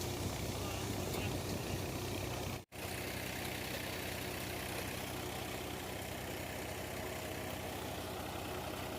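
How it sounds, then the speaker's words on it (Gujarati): Mahindra B275 DI tractor engine powering a cumin thresher, a loud, constant low drone and clatter running steadily, broken by one brief cutout. "B275 DI મહિન્દ્રાનું ટ્રેક્ટર છે"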